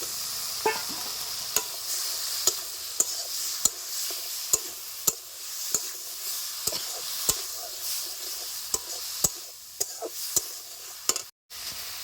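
Chopped brinjal being stir-fried with spices for a fish curry: a soft, steady sizzle broken by regular sharp clicks of a spatula against the pan, each roughly a second apart.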